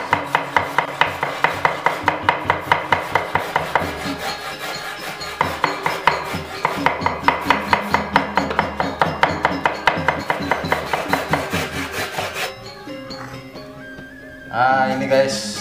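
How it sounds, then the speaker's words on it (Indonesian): Knife chopping shallots on a wooden board for Balinese lawar, a steady run of rapid close taps in bursts with brief pauses, loud and dry, ending with a softer clatter. "Sekarang bawang merahnya dicincang"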